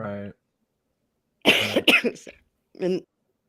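A single short vocal sound, then a burst of harsh coughing close up, followed by a brief throaty sound after a pause.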